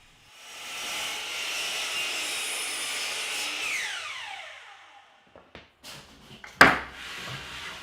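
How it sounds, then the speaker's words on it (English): A power saw cuts a 1x6 poplar board to length, a rising whine and hiss that builds for a few seconds, then spins down and gives way to a few short knocks and clatters of wood. "For the sides of the tray, I'm using 1x6 poplar, and I'll get started by first cutting the boards to length a little bit heavy."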